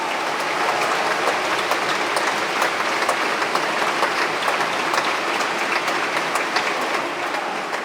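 A large audience applauds after a talk at a conference, a loud, steady wash of dense clapping that holds evenly throughout with no voices.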